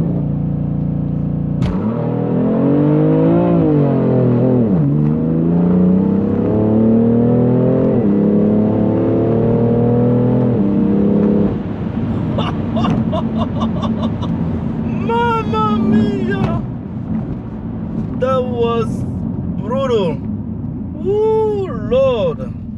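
A BMW M3 running a BootMod3 tune holds revs on launch control, then surges loudly through rising, shifting engine pitches as it accelerates hard; later passages carry chirping tire squeals over the engine drone, with voices speaking intermittently.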